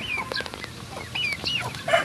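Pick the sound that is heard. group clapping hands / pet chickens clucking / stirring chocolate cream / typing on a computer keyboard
pet chickens clucking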